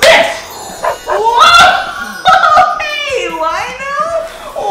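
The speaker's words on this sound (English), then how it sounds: "That's my dog, Lino." A pet dog yips and whimpers in short bursts close by, mixed with excited voices talking over it at a bright outdoor playground.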